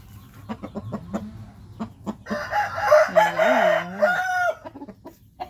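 Chicken sounds up close from a 2.5 kg chicken: a run of short sharp clucks, then a louder drawn-out crowing call, with scattered clucks trailing after.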